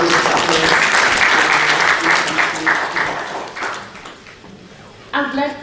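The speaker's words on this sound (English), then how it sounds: "Can we just give another round of applause?" Loud applause from an audience at a United Nations event on social protection for women and girls, sustained and then tapering off, with a short fresh burst of clapping near the end.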